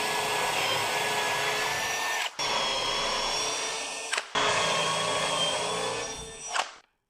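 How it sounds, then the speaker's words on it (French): A drill with a Forstner bit bores into wood, whining loudly in three sustained bursts separated by brief stops before winding down at the end. "mais y allons prudemment avec la mèche Forstner."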